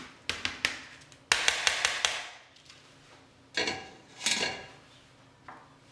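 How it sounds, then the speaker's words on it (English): Cooked quinoa being moved onto a baking sheet, heard as a series of sharp metallic taps and scrapes of a utensil knocking against a pan and sheet, close and in irregular bursts with quiet gaps. "I'll transfer the quinoa onto my baking sheet"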